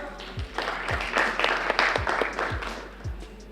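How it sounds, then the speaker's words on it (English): Applause from an audience at a university challenge awarding ceremony greets a team, steady crowd clapping over a regular pounding bass beat. "A hand of applause, Save for the Purpose"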